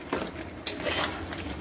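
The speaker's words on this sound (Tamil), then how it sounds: "எண்ணெயில் நல்லா 10 நிமிஷம் நல்லா வதங்கி வரட்டும்" Mutton pieces fry in oil for a salna gravy while a spoon stirs them against the metal pot. There are a couple of scraping clatters over a soft, close, continuous sizzle.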